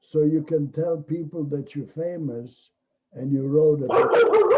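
A dog barks several times over ongoing conversation between people, the barks loudest and clustered near the end, sharp and close to the microphone.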